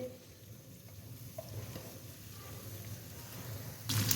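Ridge gourd (tinda) fries in oil in a pan with a steady, soft sizzle, while occasional stirring scrapes sound close by and grow louder near the end.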